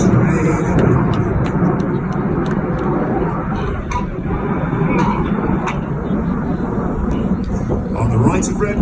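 Red Arrows BAE Hawk jets flying at an air show give off a loud, steady roar of jet engines that carries through the whole stretch, with a commentator talking over it.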